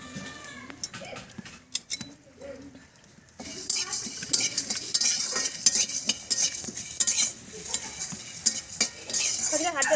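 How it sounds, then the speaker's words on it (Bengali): Coriander, garam masala, pepper, cumin, bay leaves and dried red chillies dry roasting in a dry kadai, stirred with a metal spoon: scattered scraping and clinks at first, then a louder, steady rustling and scraping after a few seconds. "ধনে, গরম মশলা, মরিচ, জিরে, তেজপাতা, শুকনো লঙ্কা শুকনো কড়াইতে ভেজে নেব।"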